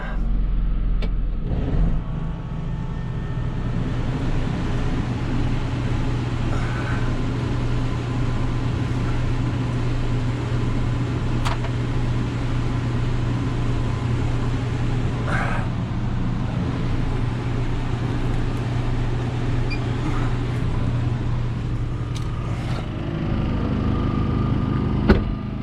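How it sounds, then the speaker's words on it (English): A Champion 4500 W generator mounted on an RV starts up and settles into a steady, loud, droning run with a constant hum, a few faint clicks and knocks over the top. "Fire up the generator."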